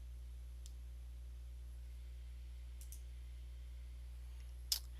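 A few faint computer mouse clicks, sparse and isolated over a steady low electrical hum, with a slightly sharper click near the end.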